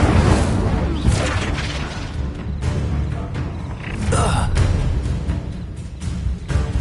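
A fiery Incendio spell bursts in Hogwarts Legacy amid a dense, loud, continuous roar of booming blasts and crackling effects, with a voice talking over the chaos.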